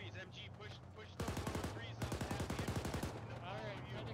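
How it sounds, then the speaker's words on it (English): Automatic weapon fire in the ShackTac Arma military video game, with two rapid bursts of shots, close and loud, over a steady game background hum. "Just shooting into the grass."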